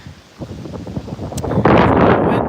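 Wind buffets a microphone outdoors while someone walks a dog, low rumbling gusts building and turning into a loud, broadband roar in the second half, with no talk over it.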